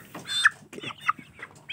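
Two-month-old Aseel Parrot chickens cluck in a few short, close bursts scattered across barely two seconds, with no talking.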